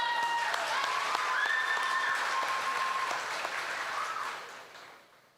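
Audience applause for contestants at the Choctaw Nation Princess Pageant, sustained clapping with a thin tonal hum above it, holding steady before fading away near the end.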